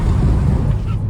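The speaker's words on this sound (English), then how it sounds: "Oh, now it's windy." Loud, low buffeting wind roar through the open windows of a BMW 440i Gran Coupe xDrive, steady and rumbling across the whole moment, with a faint bit of voice mixed in.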